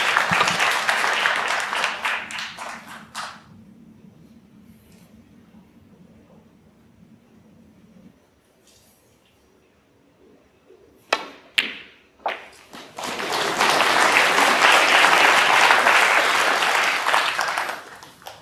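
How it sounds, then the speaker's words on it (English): Applause at a snooker match during a tournament quarter-final, a burst of clapping at the start fading into a quiet hall, a few sharp knocks, then a longer, fuller round of clapping near the end. "The smattering of applause you might have heard from table 2"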